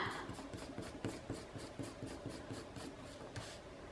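A pencil eraser rubbed back and forth over paper in quick, even strokes, a soft, faint scratchy rhythm close by with no voices.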